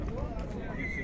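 A horse neighs briefly at a horse market in Bishkek where mares are being sold, a short whinny heard beneath a voice amid market background noise.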